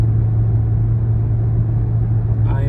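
Steady low cabin rumble from an Infiniti QX80 driving and shifting up through its gears after a transmission fluid change, a smooth continuous drone with no breaks, close and fairly loud.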